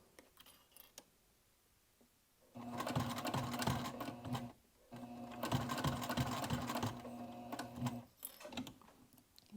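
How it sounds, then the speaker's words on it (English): A sewing machine stitches binding down over a seam on a dual-zip crossbody bag, running in two long steady bursts with short pauses between, close and clear with no talking. "Sew as close to that edge as possible."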